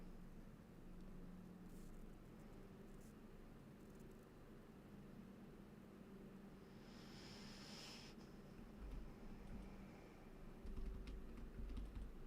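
Computer keyboard typing runs steadily through the stretch, a dense patter of soft clicks close to the mic over a constant low hum from a gaming setup, with no talking.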